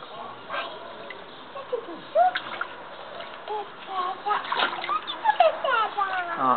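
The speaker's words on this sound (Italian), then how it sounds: "Maddy, mi fai vedere come nuoti?" A pug mix dog splashes in a swimming pool in cold water, with irregular wet splatters and sloshing close by, accompanied by chirpy voices and someone speaking over the splashing.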